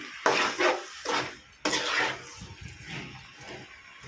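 Mixed vegetables stirred together in a pan, several soft scraping and rustling strokes with brief pauses, close and quiet, no talk.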